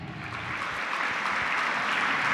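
An audience at a school Republic Day celebration claps together in a dense, steady round of applause, building slightly and holding at a moderate level.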